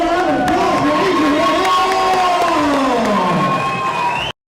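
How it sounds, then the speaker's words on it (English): A large crowd cheers and applauds at a Texas fight night event, a loud, continuous roar of voices and clapping filling the space throughout. "Ladies and gentlemen, round of applause"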